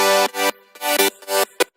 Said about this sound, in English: So I made a layer of synths that actually sound like this.